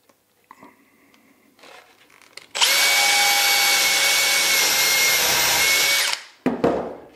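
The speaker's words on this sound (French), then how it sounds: "On perce." A power drill bores into a wooden shelf slat for a saw-bench storage cabinet, a loud, high whine that lasts about three and a half seconds before stopping, preceded by quiet handling noises and followed by a few clunks.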